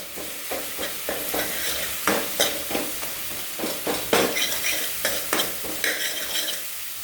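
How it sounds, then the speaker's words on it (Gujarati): Garlic masala roasts and sizzles in a pan over a full gas flame while a spoon stirs it in repeated scraping strokes, close and steady, with no talking. "મસાલો શેકાય ત્યારે આપણે ફૂલ ગેસ જ રાખવાનો છે."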